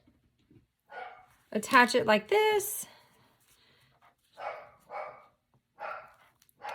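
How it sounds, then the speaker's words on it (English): A pet dog barks indoors in a rapid burst of several sharp barks, then gives a few more isolated barks spaced apart, set against quiet room tone with brief speech nearby. "Of course, my dog is barking, probably at a delivery person."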